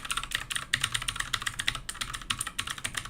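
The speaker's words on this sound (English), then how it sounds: "If I was typing, it's a serious ASMR keyboard, but I think it's not the nicest sound" Rapid, crisp clicking of a computer keyboard being typed on steadily, close and clear, with keystrokes tumbling in quick irregular bursts and no talking.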